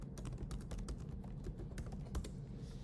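Quiet, close keystrokes on a computer keyboard tap out in a quick irregular rhythm as a command is typed, faint and alone.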